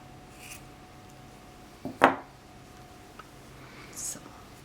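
A single sharp snip of scissors cutting through yarn, close and brief, amid faint rustling and quiet handling sounds.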